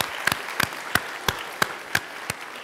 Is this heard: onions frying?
no